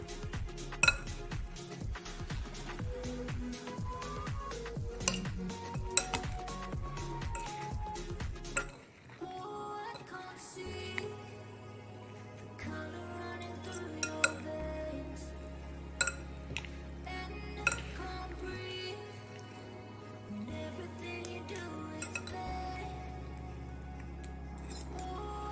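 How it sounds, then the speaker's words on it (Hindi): Fruit salad with banana being stirred in a bowl, with soft clinks and wet scraping of a spoon against the dish in irregular strokes, close and fairly quiet, over a steady background hum. "अब सबको मिक्स करेंगे"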